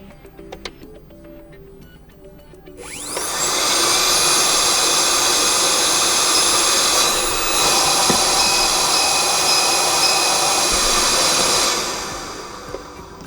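A Hutt DDC5 device powers on and runs, a loud steady whirring roar with a high whine that ramps up quickly, holds evenly, then cuts off and fades.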